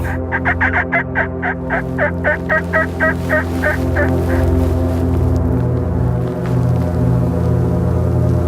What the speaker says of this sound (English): We've got turkeys moving, but no action our way.